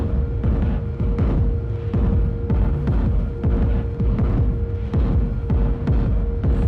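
A steady, heavy kick drum thumps in a regular rhythm. Each hit is followed by a short reverb tail that blooms just after it, over a constant low hum.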